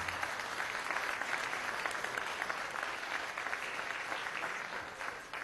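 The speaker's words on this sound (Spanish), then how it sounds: "les ofrecemos un aplauso de felicitación" Applause from members in a national assembly session, a sustained even round of clapping that tapers slightly toward the end, distant and with no voices over it.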